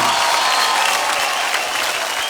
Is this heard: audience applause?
yes